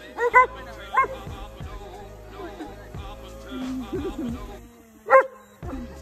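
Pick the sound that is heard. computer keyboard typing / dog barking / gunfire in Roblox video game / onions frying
dog barking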